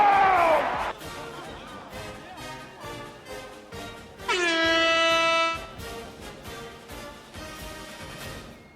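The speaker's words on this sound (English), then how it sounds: "I believe that did deserve an air horn because this game is getting pretty close." A loud, sustained air horn blast cuts through for about a second amid noisy crowd sound from a basketball game broadcast, with talk and background noise continuing around it.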